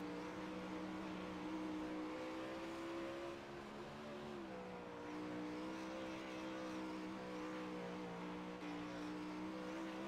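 Winged sprint cars race at Knoxville Raceway in the iRacing game, their engines producing a steady, droning roar with sustained harmonic tones that dip briefly then climb again, fairly quiet overall and with no speech.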